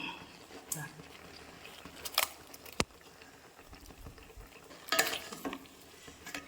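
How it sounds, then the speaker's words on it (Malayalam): Ground coconut paste is stirred into simmering kootukari, an Onam special mixed curry. A spoon scrapes and clinks against the pot in a few louder bursts over a low bubbling simmer, with a voice speaking quietly in the background. "നമുക്കിനി ഇതിലേക്ക് അരപ്പും ചേർത്ത് കൊടുക്കാം"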